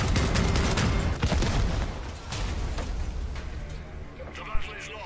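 Rapid explosions and gunfire from a Crossout vehicle combat battle crackle and boom densely for about two seconds, then thin out into scattered blasts and a lingering rumble as a voice speaks over them.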